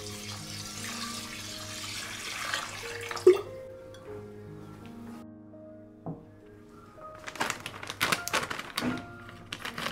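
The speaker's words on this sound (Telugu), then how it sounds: "ఇక్కడ నేను 2 గ్లాసెస్ ఆఫ్ బాస్మతి రైస్ తీసుకొని చక్కగా వాష్ చేసేసి సోక్ చేసుకొని పక్కన పెట్టేసుకుంటున్నా" Basmati rice is washed in water, with faint swishing and splashing that grows busier toward the end over quiet background music.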